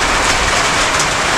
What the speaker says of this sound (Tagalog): baka mamaya lumakas yung ulan